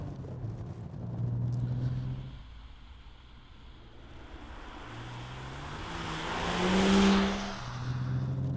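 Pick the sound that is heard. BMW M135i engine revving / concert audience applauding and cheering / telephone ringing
BMW M135i engine revving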